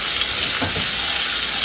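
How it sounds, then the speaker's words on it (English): Flour being mixed into a hot pan, a steady broadband sizzle throughout with a couple of brief stirring scrapes near the middle, close and fairly loud, no voices. "all-purpose flour. Give that a little mix."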